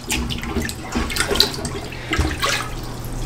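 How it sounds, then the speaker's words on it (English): Plunger pumping a clogged hotel toilet, repeated wet sloshing and gurgling pushes of water in a steady rhythm, close and fairly loud with no talking. "Take the round part right here, it goes right down in the hole in the center of the toilet. And what you want to do is pump about 5 times."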